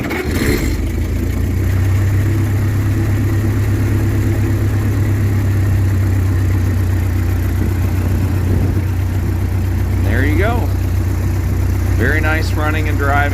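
Engine of a 1912 Ford Model T Speedster running close by, a loud steady idle with a low throbbing rumble throughout, and brief voices speaking near the end.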